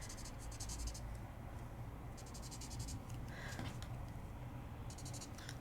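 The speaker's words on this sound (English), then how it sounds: "So I just scribbled some green in." Green coloring scribbled onto paper in quick repeated strokes, soft rapid scratchy bursts heard in several short clusters, close but faint.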